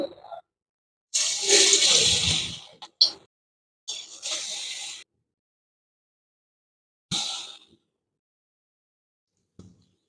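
Ragi batter drops into hot groundnut oil, bursting into loud hissing sizzles that flare and fade in several separate spurts with quiet gaps between.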